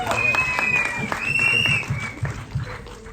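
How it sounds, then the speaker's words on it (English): Audience applause fades out at a film trailer launch event, mixed with crowd noise and a voice talking over it, ending in a few scattered claps. "Big round of applause for her as well."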